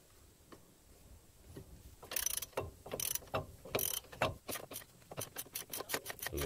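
Ratchet wrench loosening the top bolt of a brake caliper on a Ford Falcon, heard close up as a run of sharp clicking bursts, faint at first, then louder and quicker toward the end, with no talk.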